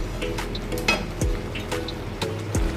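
Jackfruit and prawn curry stir-fried in a pan, a soft steady sizzle under repeated scraping and clinking of a spatula against the metal, with occasional louder knocks.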